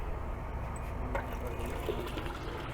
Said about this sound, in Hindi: कार्चर पंप है ये, हमने ये पानी से इसको कनेक्ट किया हुआ है